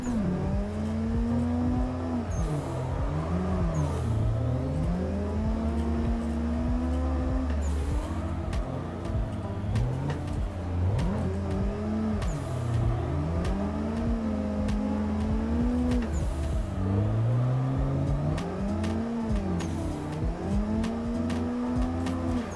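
Simulated car drifting in Assetto Corsa, an engine droning and revving in repeated rising and falling sweeps with steady tire noise, loud and continuous throughout.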